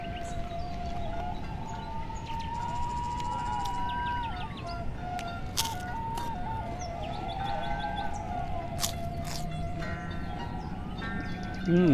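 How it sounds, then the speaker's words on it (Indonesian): An ambulance siren wails in a rice field setting, its tone slowly rising and falling, steady and moderately distant, with bird chirps and small clicks scattered over it. "Sok sararieun lamun ngadangu sirine ambulan."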